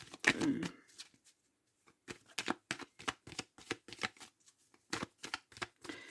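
Tarot cards being shuffled and cut for a reading: an opening burst of handling, a short pause, then a quick run of close, soft riffling flutters.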